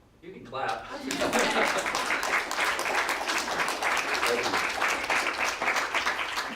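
Audience applause at a poetry reading swells quickly and holds as a steady, dense wash of clapping from a full room, with a few chuckles mixed in.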